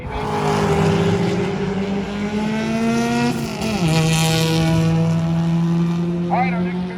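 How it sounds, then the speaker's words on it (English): Drag racing cars, including a GTO, power down a raceway strip at a street-car event, engines roaring loud and steady with rising tones as they accelerate away, under continuous announcer talk. "our next pair on their way down the racetrack"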